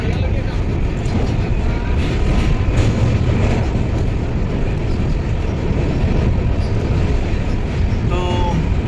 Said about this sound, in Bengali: এই পাশেও ট্রেন যাচ্ছে